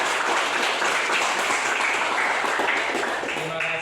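Audience applause during a classroom teaching session, a steady dense wash of clapping from a group that continues evenly for a few seconds.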